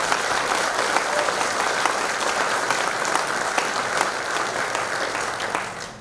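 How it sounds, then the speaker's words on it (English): Sustained, dense applause from a large crowd at a captains' meeting, steady and loud throughout before tapering slightly at the end. "we need to do a big round of applause for the people at"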